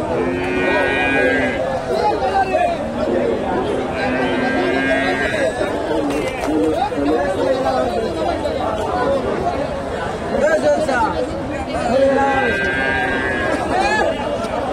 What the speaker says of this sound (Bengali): এখানে একটা দেখেন ফ্রিজিয়ান ষাঁড় বাচ্চা, মোটামুটি একটু বড় আছে